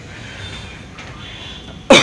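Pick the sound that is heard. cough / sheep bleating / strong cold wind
cough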